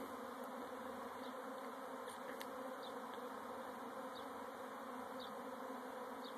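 A honey bee swarm clusters on a tree branch in Sacramento, its dense, steady buzzing hum filling the air evenly with no pauses and no voices.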